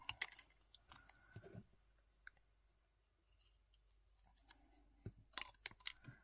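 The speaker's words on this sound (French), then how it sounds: "Je viens la découper tout gentiment." Scissors snip through a laminated letter template in a quiet room, close and soft: clusters of sharp crisp cuts, a pause, then another flurry of snips.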